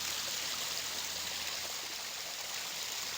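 Water pouring into a backyard pond that is about ten years old, heard as a steady, dense rush of flowing water with no pauses, loud and close, with no voices.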